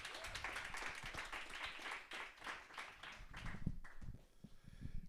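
Audience applause for a speaker at a TEDx event closing a talk, a fairly faint, steady patter of clapping that dips midway and swells again toward the end.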